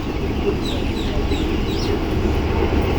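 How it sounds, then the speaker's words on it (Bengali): Chickens cluck and chirp faintly in the distance over a loud, steady low rumble of outdoor background noise. "তো মুরগিগুলো দেখুন"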